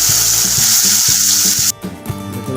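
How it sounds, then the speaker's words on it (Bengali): Mango pieces coated in salt and turmeric sizzle loudly in a hot pan, a dense close frying hiss with stirring scrapes; the hiss drops away suddenly near the end, leaving softer bubbling. "দেখুন আমার আমটা ভালোভাবে ভাজা হয়ে গেছে।"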